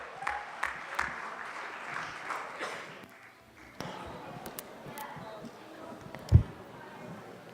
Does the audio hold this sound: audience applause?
yes